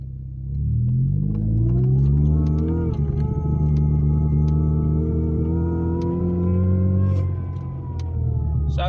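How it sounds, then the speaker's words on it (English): A Mercedes-Benz 230 Kompressor with its vacuum delay valve removed accelerates. The supercharged engine rises to a loud, steady droning whine and holds it for several seconds before easing off, heard close up with no talking. "Let's see what the car does without it. Hopefully you'll be able to hear it."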